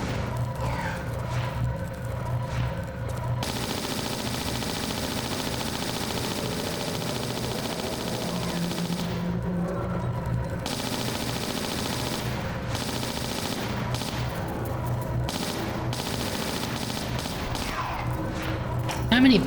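Automatic weapon gunfire in Tomb Raider: The Last Revelation, a dense continuous stream of shots lasting throughout with thuds mixed in, loud and close over game background noise.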